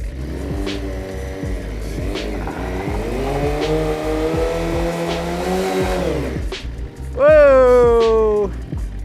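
A motorcycle doing a rolling burnout, its engine revving hard in sustained rising and falling tones, then a sharp high climbing rev with tire squeal near the end, close and loud.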